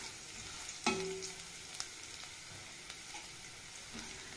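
Raw peanuts hit a pan of frying garlic, giving a soft, steady sizzle with a brief clatter as they drop in, faint and close, with no talking.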